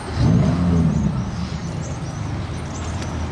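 A Ferrari 458 Speciale pulls away on a Paris street, its engine rising in a brief throaty rev near the start before fading into a steadier drone amid city noise.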